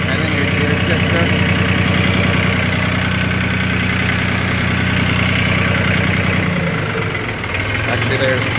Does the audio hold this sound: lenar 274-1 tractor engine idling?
yes